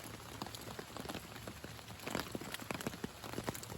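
Rain falls steadily on a hammock camp beside a river, a soft, continuous patter of drops that is quiet and close, with no voices.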